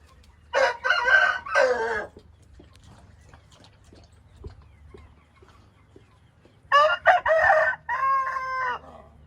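An Aseel rooster crows loudly nearby, two full crows separated by several seconds of near-quiet, the second followed by a trailing harmonic call.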